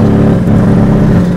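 A Golf 4 TDI tuned to 317 hp accelerates hard with its tires spinning, giving a loud, steady, close engine drone that holds throughout the short burst.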